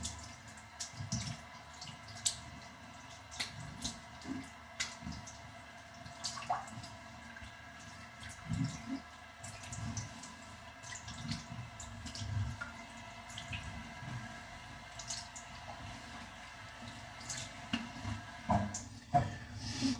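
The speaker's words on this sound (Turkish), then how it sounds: "Yüzümüzü soğuk suyla yıkayalım." A face being rinsed with cold running water at a sink after a shave: quiet, intermittent splashes and drips over a soft, steady tap flow, with no voices.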